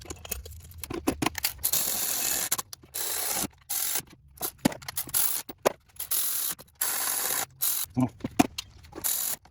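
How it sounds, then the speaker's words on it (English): A manual ratchet clicks in short bursts while hand-tightening water pump bolts on a 2016 Dodge Charger R/T 5.7 V8, close and fairly quiet with pauses between strokes. "Now I'm just gonna hand tighten them with the manual ratchet so I can get the feel."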